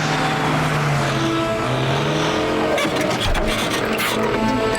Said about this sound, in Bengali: ওই দেখো ওই গাড়িটা ওই দিকে যাচ্ছে